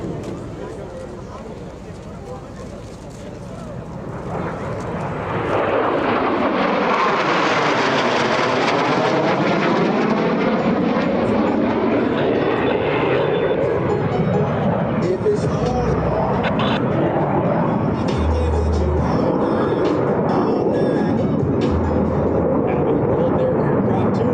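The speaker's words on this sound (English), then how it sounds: "Blue Angels 5 and 6 are approaching the flight line at 400 miles per hour." Two US Navy Blue Angels jets roar past at an air show, their engine noise swelling from a distant rumble into a loud, sustained sweeping roar that holds steady as they cross the flight line, with an announcer talking over it.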